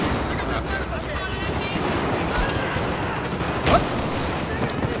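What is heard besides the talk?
gunfire in a video game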